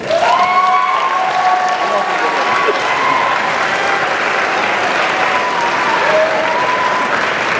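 A graduation ceremony audience claps loudly and steadily for the graduates' parents, dense continuous applause from a large crowd with a few faint shouts.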